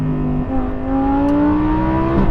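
A Lamborghini V10 mounted behind the seat revs hard and close, its pitch climbing smoothly as it accelerates, with a brief dip partway through.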